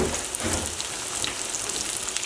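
Chicken pieces for farmhouse fried chicken bubble and crackle steadily in hot oil, a dense, even sizzle that holds at close range without pause and with no voices.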